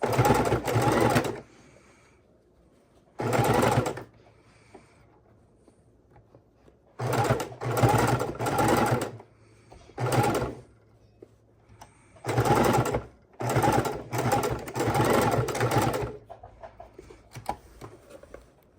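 A sewing machine stitches through a paper junk journal cover in repeated bursts of rapid mechanical chatter, with short quiet pauses between runs as the work is pivoted.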